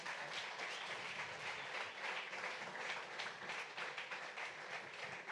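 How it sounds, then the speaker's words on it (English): Audience applause after a keynote presentation at a publishing industry talk: dense, sustained clapping from a sizable crowd, steady and loud throughout with no voices over it. "let's have a round of applause for Carol Kruse."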